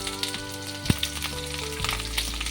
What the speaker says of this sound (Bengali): আমি এই সবজিগুলোকে ভালো করে তেলের মধ্যে ভেজে নেব।